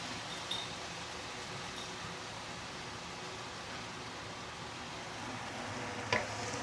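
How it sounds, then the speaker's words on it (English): Sambal paste sautéing in plenty of oil, giving a soft, steady hiss of sizzling with a couple of faint clicks and no voices. "So you need to saute this at least for the next 3 minutes before we start adding other ingredients"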